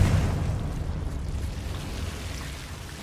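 A Confringo blasting spell detonates in the Hogwarts Legacy video game, a loud rumbling explosion that booms at the start and fades into a long, steady roaring decay.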